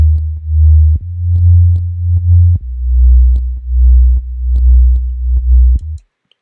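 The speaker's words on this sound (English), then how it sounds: "on the amp knob right here I put an LFO on it" Synth sine wave sub bass with an LFO on the amplitude, its deep tone swelling and dipping in a steady pulsing rhythm across several held notes before stopping.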